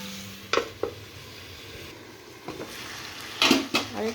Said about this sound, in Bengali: আর একটু নেড়ে চেড়ে দিব।